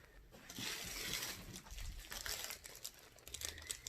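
Crinkly plastic rustling close by, irregular bursts of crackling handling noise that rise and fall without any speech.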